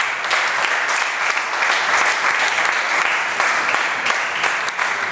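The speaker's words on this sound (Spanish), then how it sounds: "Bríndele fuerte el aplauso al Rey de Dios." A church congregation breaks into loud, sustained applause, dense rapid clapping from many hands that holds steady throughout with no voices standing out.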